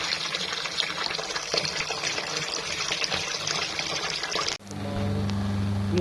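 Water gushes steadily into a washing machine tub to soak white laundry, a loud continuous rush that cuts off sharply and gives way to a low mechanical hum near the end.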